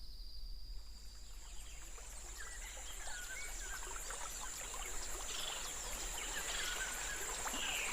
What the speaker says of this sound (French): Laisse-toi bercer par le chant des oiseaux et le doux clapotis d'un ruisseau.